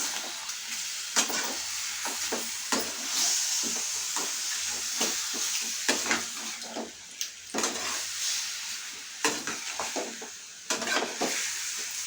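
Chicken curry being stirred and fried in a pan, with steady sizzling and hissing and repeated scraping strokes of a spoon against the pan, fairly close and continuous with no talk.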